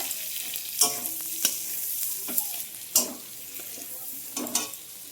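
Tomato frying with onion and garlic in a pan: a continuous close sizzle broken by several scraping stirs and utensil clinks, no talk.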